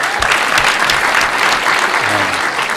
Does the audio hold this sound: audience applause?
yes